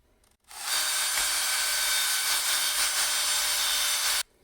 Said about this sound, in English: let's try this with a bigger drill that can spin faster